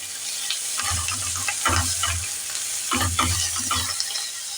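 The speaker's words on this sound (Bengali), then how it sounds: "1 চামচ জিরের গুঁড়ো দিলাম, 1 চামচ ধনের গুঁড়ো দিলাম। এটাকে আমি শুকনোভাবে নেড়ে নেব একটু।" Ground cumin and coriander powder dry-stirred with ginger paste in a hot pan, giving bursts of scraping and light sizzle in two main spells over a steady hiss, close and fairly loud with no talking.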